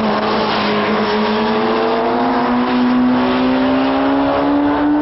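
Sport motorcycles, a Kawasaki Ninja ZX-12R and a Suzuki GSX-R1300 Hayabusa, race flat out on a track, a steady loud high-revving engine whine rising in pitch throughout, close and continuous with no talk.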